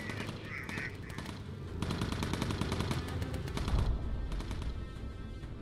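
Rapid bursts of machine gun fire from a bomber's gunners in the video game Bomber Crew, loud and sustained in rattling volleys over a continuous engine drone, with a short quacky blip near the start.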